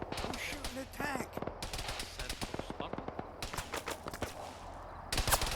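Video-game gunfire aimed at tanks, with rapid bursts of automatic shots and single cracks that come in quick volleys over a busy mix of game noise, with voices heard briefly.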